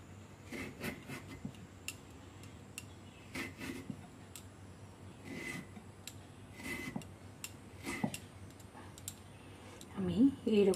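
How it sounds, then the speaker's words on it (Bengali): A knife cuts potatoes into pieces on a board, giving a series of quick, light clicks and taps in uneven clusters, near but fairly quiet, ending in a louder scrape. "এবার আমি আলুটাকে কেটে নিচ্ছি।"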